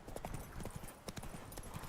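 The horse Roach galloping in The Witcher 3, a quick, rhythmic clip-clop of hooves repeating steadily and fairly close, in a brief burst with a faint background bed.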